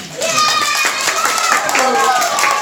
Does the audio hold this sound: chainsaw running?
no